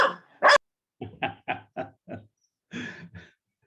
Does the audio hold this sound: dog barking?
yes